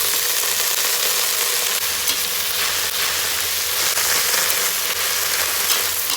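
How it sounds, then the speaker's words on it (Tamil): Spinach sautéing with softened onions in a pan, a dense continuous sizzle and frying hiss with occasional stirring, close and loud throughout, no voices. "இப்போ கீரையை போட்டு அப்படியே வதக்கிடுவோம்."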